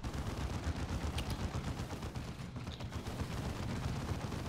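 Dense battle gunfire from the Warhammer 40K video game Dawn of War 2 fills the whole stretch: loud, rapid, overlapping shots and machine-gun bursts with heavy low rumble, and no clear talk.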